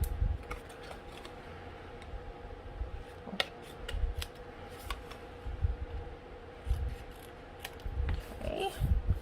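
Scissors trimming the edges of a paper craft box, a series of soft, close snipping clicks at an irregular pace, faint and alone in a quiet room.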